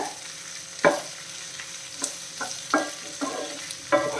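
Okra bhujiya fries in a pan over a lowered flame, with a soft sizzle broken by a series of distinct scraping and clinking stirs of a spoon against the pan; no one speaks.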